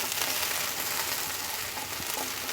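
Garlic cloves lightly frying in a pan, a steady close sizzle with faint stirring scrapes, no voices.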